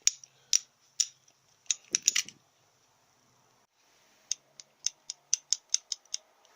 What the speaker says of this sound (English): I'm just moving that counterweight there on the bottom, and you can see it shuttling through nicely there